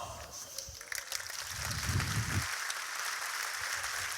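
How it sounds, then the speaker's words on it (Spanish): A crowd applauds at a staged gladiator games show, steady mid-distance clapping with a brief low rumble partway through, fairly quiet overall. "Un aplauso para Décimo Bruto"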